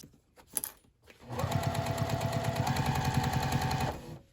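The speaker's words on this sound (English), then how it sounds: "We are going to sew the two side seams instead of the two fronts." A sewing machine runs steadily for about three seconds, stitching the side seams of a fabric bag, with a rapid even needle rhythm after a brief pause and a light click at the start.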